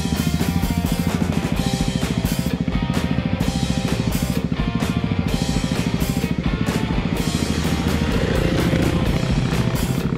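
A dirt bike's engine drones loud and steady throughout on a Victorian high country track, with a continuous rhythmic buzz and no other sounds.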